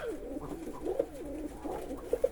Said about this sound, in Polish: jest gołąbek.